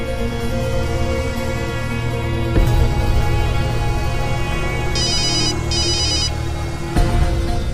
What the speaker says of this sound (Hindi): जरा फोन लगाना बंटी को।